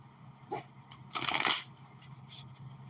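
A thick deck of tarot cards is split and shuffled in a few quick riffling bursts, soft and close, with brief papery flutters and pauses between them.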